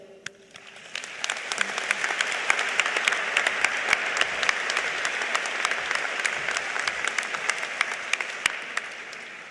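Applause fills a hall at a 2014 afternoon graduation ceremony, rising within the first second into loud, sustained clapping from a large audience, with sharp individual claps standing out through the rest.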